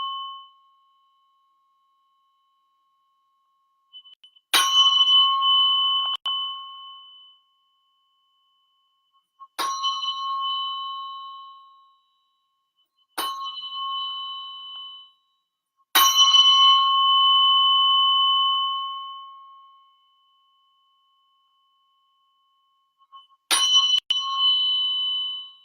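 A biofield tuning fork is struck on a puck and rings five times, each a bright, pure, bell-like tone that decays over a few seconds, separated by silence.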